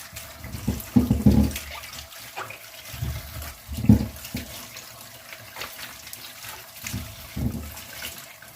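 Running tap water splashes in uneven bursts as cucumbers are rinsed beneath it, close by, with brief louder gushes and no talking.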